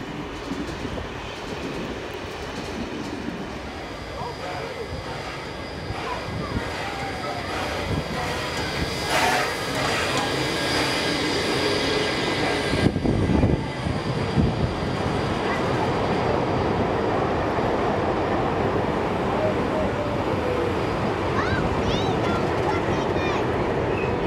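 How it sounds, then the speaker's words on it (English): A train roars past at speed through Exeter, New South Wales, with a steady, dense rumble and rattling wheels, a brief louder surge midway, and some faint voices in the background. "The train is now seen storming through Exeter."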